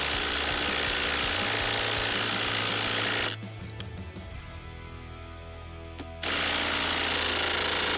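A TECCPO 20V cordless impact driver drives a screw into wood without a pilot hole, giving a loud, continuous hammering rattle that runs for about three seconds, then stops as the tool slows and releases.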